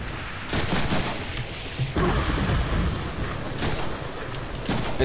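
Gunfire in the Deadpool video game, a dense, continuous barrage of loud shots with bursts of rapid fire filling the whole stretch, no voices.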